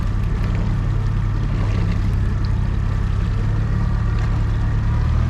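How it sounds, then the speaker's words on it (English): Motor of a Bayrunner T-top boat throttling up on open water, a loud, steady engine drone with strong low rumble that holds continuously throughout, with wind and water noise layered over it. "Then you turn it on, you can max throttle. See how it goes there, then you can speed it up."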